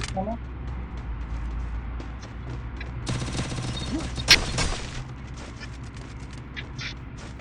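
Gunfire in the battle-royale shooter Free Fire: a dense burst of rapid shots erupts mid-clip with one sharp loud crack, over constant game ambience and a low background hum.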